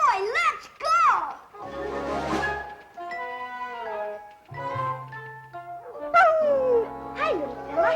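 Dogs at an animal shelter in a comedy TV episode, several whimpering, yipping and barking in short pitched bursts, close and fairly loud, mixed with a voice talking.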